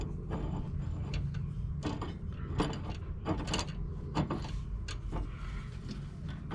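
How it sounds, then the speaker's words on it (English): An inner tie rod being screwed into the steering rack of a 2000 Subaru Forester, giving close metallic ratcheting clicks and scraping turns in irregular bursts over a steady background hum. "I'm going to be screwing my inner tie rod in"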